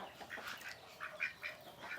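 Ducks and chickens in a village yard give a few faint, short quacks and calls at a moderate distance.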